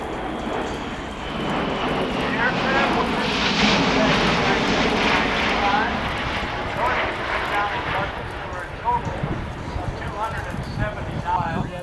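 A C-17 military transport jet climbs at an airshow, its loud broad engine roar building and holding steady at moderate distance while a voice talks over it throughout.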